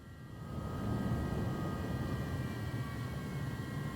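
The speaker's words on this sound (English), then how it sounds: "How is there possibly a jet here?" A jet aircraft in Microsoft Flight Simulator drones with a steady broadband engine roar and a faint high whine, swelling slightly and holding at moderate level.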